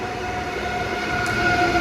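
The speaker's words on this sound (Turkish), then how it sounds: "hızlı trenimiz geldi" A high-speed electric train runs past at steady speed, making a continuous rumbling rush with faint tonal whines that swell slightly toward the end.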